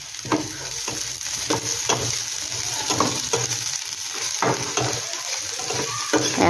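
Onions frying in a kadai while making a tawa idli dish, a loud steady sizzle with repeated scraping stir strokes from a spatula, close and continuous with no talk.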